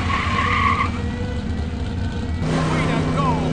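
A race car in the Cars: Radiator Springs Adventures video game drives and skids, with engine drone and tire noise that shift abruptly partway through. Game voices speak over it.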